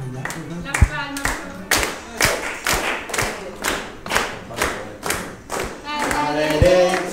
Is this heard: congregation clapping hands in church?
yes